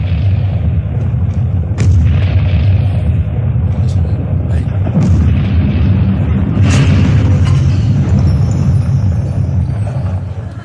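Deep rumbling explosion sound effects for a bunker scene in a stage comedy show roll continuously, like distant blasts, with sharp impacts now and then and voices murmuring underneath.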